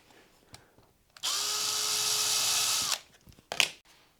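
A builders' power drill whirs outside, one steady high-pitched run lasting under two seconds, muffled and at a distance, framed by faint scattered knocks and a brief clatter afterward.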